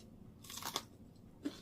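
Crunchy chewing of rice with dal, a few close, quiet bites with a brief burst of crunching midway and another short crunch near the end.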